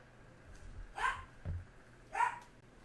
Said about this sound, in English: Sorry about the dog noise in the background.